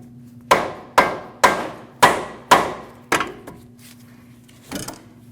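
Hammer strikes knocking an outer tie rod end loose from the steering knuckle of a 2014-2023 Jeep Cherokee: about six sharp metallic taps at a steady rhythm, close and clear, followed by a fainter knock.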